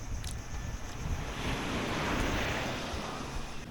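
Waves washing onto a beach shore at breakfast time, a steady broadband rush of surf mixed with wind buffeting the microphone, continuous and fairly loud with no talking.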